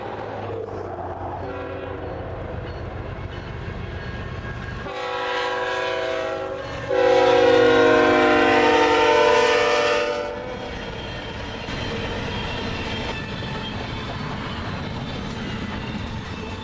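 A CSX train rumbles past in countryside near Bridgeport, Alabama, its horn sounding in long, loud blasts midway before the rumble of the cars carries on and slowly fades.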